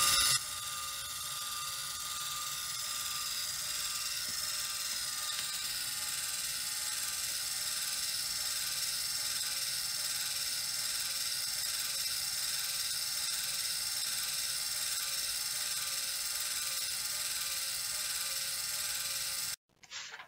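A LEGO clinostat with a very high gear ratio turns steadily, giving a continuous close mechanical whir with faint ticking that runs unbroken for about twenty seconds before cutting off abruptly.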